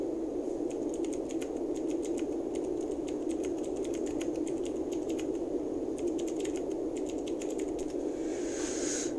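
Rapid typing on a computer keyboard, a continuous patter of light close clicks in uneven bursts over a steady background hum, with no talking.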